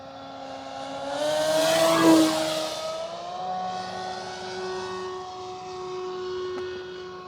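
A Hangar 9 PT-19 RC airplane with a 1435mm wingspan, running on 6S power, whines steadily overhead. The electric tone rises and swells loudest as it makes a close pass, then holds a fainter steady drone as it moves away.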